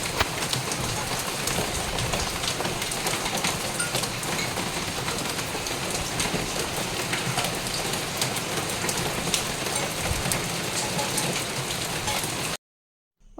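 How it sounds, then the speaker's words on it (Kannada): Heavy rain pours down in Mysore, a dense, steady wash of drops hitting surfaces for several seconds before cutting off abruptly, with no voices. "ಮೈಸೂರಲ್ಲಂತೂ ತುಂಬಾ ಮಳೆ, ನೋಡಿ ಹೇಗೆ ಬರ್ತಾ ಇದೆ ಅಂತ"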